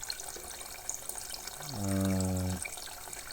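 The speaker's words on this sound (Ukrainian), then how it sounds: "Разом з водою шумить і повітря." A heating radiator's bleed valve, opened slightly, releases a steady hiss of water mixed with escaping air; a louder tonal whistle rises for about a second in the middle, then drops back to the softer rushing.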